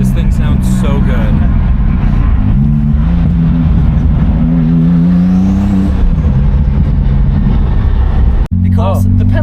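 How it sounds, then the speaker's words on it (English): The tuned exhaust of a Porsche 997 Turbo drones deep and loud from inside the car while driving slowly, its tone rising and falling with the revs, and people talk over it throughout. "the exhaust sounds incredible on this thing, and we're barely moving yet"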